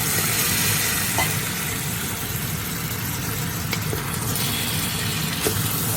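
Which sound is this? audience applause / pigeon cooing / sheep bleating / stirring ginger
stirring ginger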